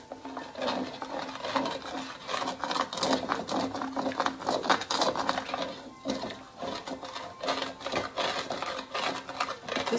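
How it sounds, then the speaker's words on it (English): A utensil stirring half a cup of broth in a pan for a beef and broccoli stir-fry, scraping browned bits off the bottom: quiet, irregular scraping, sizzling and clinking strokes close by, with no talk. "it says to stir to loosen the good stuff on the bottom"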